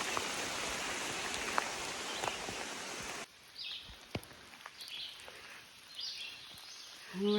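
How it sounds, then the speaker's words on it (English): Rain falls along the rocky Rock Maze Trail forest path in Oakland, Maryland, a steady hiss of drops with scattered patters on leaves, loud at first and then lighter and sparser. "Would have been much nicer if it wasn't raining."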